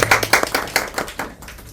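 An audience at a breast, bowel and cervical cancer awareness talk gives a short round of applause for a presenter, a burst of close hand claps that thins out and fades within two seconds.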